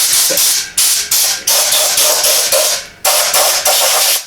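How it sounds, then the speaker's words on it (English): Fluid Film rust-proofing spray fogs from an emitter nozzle in loud, close hissing bursts, about eight in a row, each sharp at onset and easing off before the next, with brief gaps between them. "I spray straight down here. You can see it shooting out the center nozzle, and also does the side. So it's making a fog pattern."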